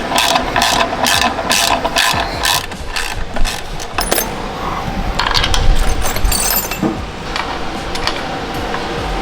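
Ratchet tightening bolts on engine mounts during a budget engine swap in a car chassis, a rapid series of metallic clicks in bursts over the first few seconds, then scattered clinks and shop noise.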